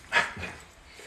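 A dog excited over a bagel treat with a little cream cheese gives a quick, close yip or short whimpering bark, then a softer follow-up whine.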